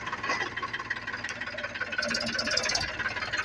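Tractor engine idling or running at a steady, fairly faint chug with rhythmic knocking pulses, heard alone in a rural onion-farming setting in Gujarat.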